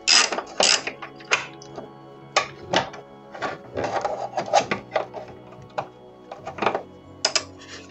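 Ratchet wrench clicking in irregular bursts while tightening hydraulic lifter parts on a Peugeot 206 CC S16, close and fairly loud, with short ratcheting runs separated by pauses and no talk.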